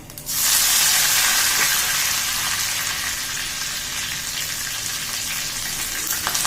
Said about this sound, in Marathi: मोहरी तडत तडतडली की जिरं घालायचं फोडणीमध्ये